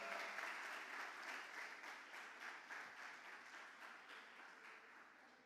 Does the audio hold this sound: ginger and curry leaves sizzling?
no